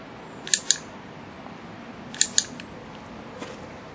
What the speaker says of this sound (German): Ich fange gerade an, mit den Kaninchen zu klickern